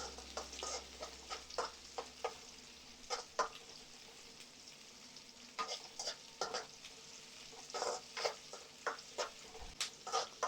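Green chillies spit and pop in hot oil while frying for a chicken fry, with irregular sharp crackles and bursts scattered over a quiet sizzling background, close and fairly soft, no voices.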